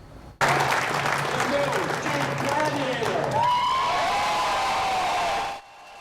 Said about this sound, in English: A roar of applause there